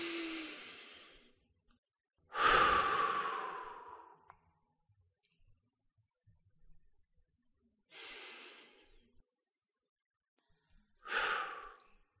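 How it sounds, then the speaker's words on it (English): Four slow, deep breaths drawn during a relaxation exercise, heard close and separated by stretches of near silence. "we recommend doing one or a few more deep breaths"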